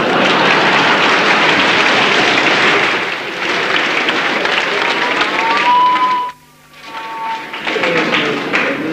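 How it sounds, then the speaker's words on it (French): A live audience applauds the mental calculator Wim Klein at a math performance, a steady dense wash of clapping that breaks off briefly near the end and then picks up again. "Applaudissements!"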